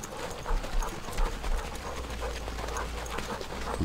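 Sled dogs running uphill in the video game Eternal Winter, a rapid rhythmic patter of paws with panting over a low steady rumble, continuous and close.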